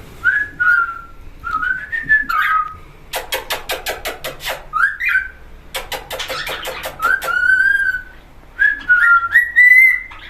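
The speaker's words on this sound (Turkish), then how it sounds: "Sultan papağanı çalıyor işte" A pet cockatiel in an aviary-style cage whistles melodic tunes, with short chirps and two bursts of rapid clicking squawks in between. The bird is close and clear throughout, and no one speaks.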